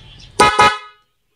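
Two loud, blaring dual car horn honks in quick succession, close by, after a faint low rumble, then silence.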